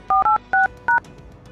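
Four loud, clean telephone keypad tones ring out in quick succession, each a steady two-note beep with short pauses between, as a number is dialed again after repeated busy calls.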